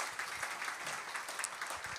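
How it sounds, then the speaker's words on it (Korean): An audience claps at a talk concert on local welfare, a short, moderately faint burst of scattered applause with individual claps audible in an uneven rhythm. "다시 한번 큰 박수 부탁드리겠습니다"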